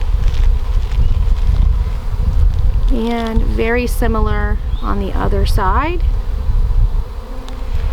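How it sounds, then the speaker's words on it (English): Honey bees on orientation flights buzz around a new hive during a weekly inspection, a steady close hum that continues while a person talks over it. "we do have a lot of bees that are doing orientation flights at the moment"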